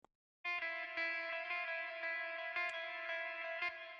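A single sustained electric guitar chord rings out, warmly saturated by a Klanghelm IVGI2 saturation plugin and washed in Platinum Verb reverb, with faint rhythmic pick strokes underneath.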